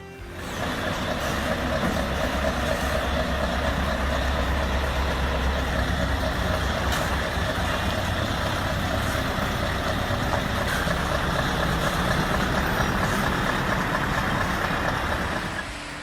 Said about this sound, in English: A majestic scene as the Cummins QSK-19 powers through the Liebherr 984 quarry.